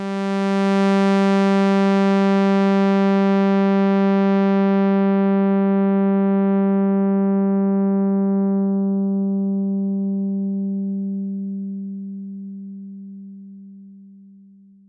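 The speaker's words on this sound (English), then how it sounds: "we're doing here is cutting out or removing those higher frequencies in the sound." A sustained VCV Rack modular synth note holds one steady pitch while a low-pass filter cutoff sweeps slowly down, the bright buzzy tone gradually dulling to a rounder, mellower hum over about fifteen seconds, loud and alone.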